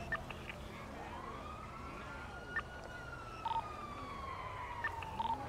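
Police car sirens wail in the NoPixel GTA roleplay game as three cops close in during a jewelry run chase, one steady rising and falling siren sweeping continuously at moderate level with faint clicks and game noise beneath.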